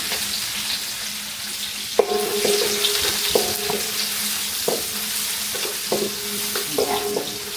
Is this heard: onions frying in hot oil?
yes